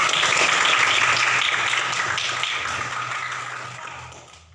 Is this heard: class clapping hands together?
yes